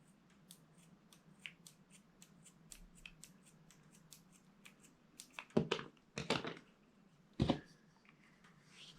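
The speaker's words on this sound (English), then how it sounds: "you cut this off while it's soft with scissors" Scissors snipping through soft, freshly heated thermoplastic sheet, giving three or four close, crisp cutting bursts after a quiet stretch of faint handling noise.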